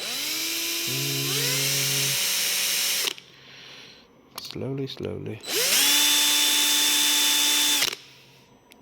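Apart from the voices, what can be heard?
power drill with 2mm drill bit drilling dagger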